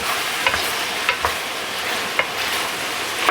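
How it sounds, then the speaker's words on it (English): Wine sizzles steadily as it cooks off in a hot pan with oxtails, with a few sharp stirring clicks and scrapes rising above the continuous frying hiss. "So we're just going to cook off that wine, build that flavor, just like that."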